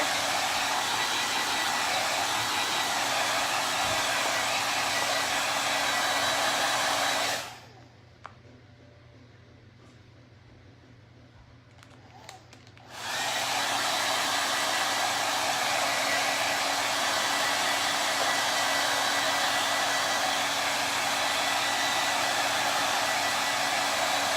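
A hair dryer blows steadily and loudly to dry a chalk paste transfer on a hat, cutting out for a few seconds midway before resuming at full strength.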